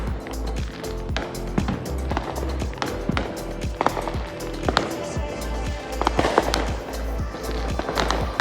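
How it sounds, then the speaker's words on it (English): Fireworks and firecrackers bursting all around on the Fourth of July along Boston's Freedom Trail, a dense continuous crackle of sharp pops and booms, some close and loud, others farther off, with no break for the whole stretch. "There's fireworks Everywhere. everywhere, all around us."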